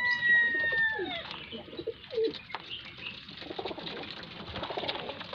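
Baby pigeons coo in soft, low, throaty calls with a few chirps and a high tone at the start, continuing steadily close by.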